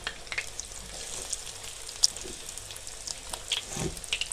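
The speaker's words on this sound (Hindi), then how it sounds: "अब हम इसमें फ्राई करेंगे।" Egg bread donuts frying in hot oil over high heat, a steady crackling sizzle with scattered pops and spits, close and moderately loud, no talking.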